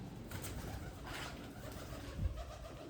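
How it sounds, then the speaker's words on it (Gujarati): A pair of pigeons coo at their nest near a village farmhouse, a soft low murmur set against steady background hiss, with one brief louder thump near the end. "જો કબૂતરા માળો કેરો લાગ્યા અહીંયા, 2 કબૂતરા"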